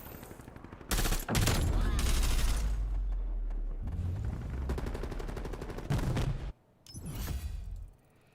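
Rapid M16 rifle fire in the shooter game Black Ops Cold War, loud bursts of shots repeating through most of the moment with short pauses between volleys, and a voice talking faintly underneath.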